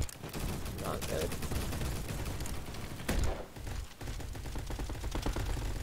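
Rapid gunfire from a video game shooter, dense continuous bursts of shots with a louder blast near the middle, while a player talks over the action.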